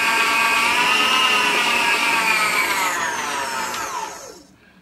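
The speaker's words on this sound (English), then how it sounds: "I'm going to cream the two together for about 3 minutes" A GeekChef stand mixer creams cream cheese and sugar at a loud, steady motor whine, then winds down in pitch and volume toward the end as it is slowed.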